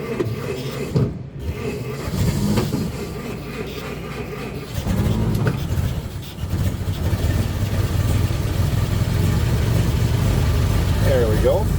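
A 1923 Ford Model T Touring cranks over and starts, then settles into a rough, rumbling idle that grows steadier and louder toward the end, close by, with someone talking over parts of it.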